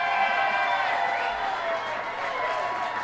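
Morning crowd filling Smoky Row coffee shop in Des Moines, Iowa, on caucus day: a steady, dense murmur of many overlapping voices chattering, with no single speaker standing out.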